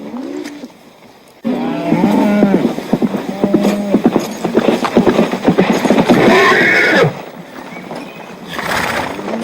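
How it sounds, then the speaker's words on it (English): A horse in an Old West setting neighs in drawn-out whinnies while its hooves clop steadily nearby, loud and close with other background sound around it. "just his horse is back"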